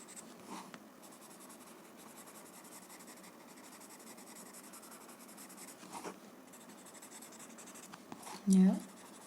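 Graphite is smudged and blended by rubbing across a drawn coaster, a soft, close, steady scratching under quiet speech, ending in a brief louder bump.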